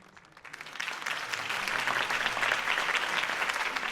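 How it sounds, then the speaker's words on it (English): A video game crowd breaks into applause that swells within the first second and holds as a dense, steady clapping roar. "could have heard that applause"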